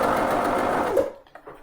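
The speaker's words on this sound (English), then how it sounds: "And we'll sew it now." A Janome 525 S sewing machine stitches in a steady, close whir for about a second, then stops, leaving a few faint clicks and handling noises.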